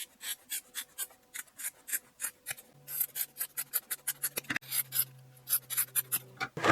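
Scissors cut fiberglass cloth into square patches during a sailboat hull repair, a quiet series of regular rasping snips close by, with a faint hum underneath.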